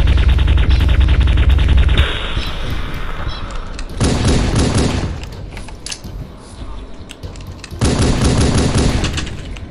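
Super soaker weapon firing in Halo: Cursed Edition, loud sustained bursts of rapid gunfire in several long stretches with brief pauses between, game effects throughout.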